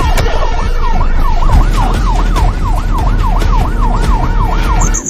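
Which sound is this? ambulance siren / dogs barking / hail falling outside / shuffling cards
ambulance siren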